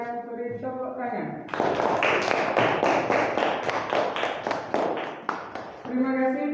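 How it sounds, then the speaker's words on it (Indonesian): Group clapping from an audience, a burst of rapid, fairly close hand claps between stretches of speech, with a person talking just before and after. "Silakan beri tepuk tangan."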